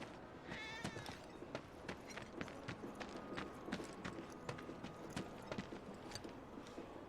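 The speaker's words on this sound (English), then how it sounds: "It's like a million cats there, and none of it works." Stray cats meow in Final Fantasy 7 Remake Intergrade, several faint, short mews scattered over a soft, busy bed of clopping ticks and ambient noise, with no talk over them.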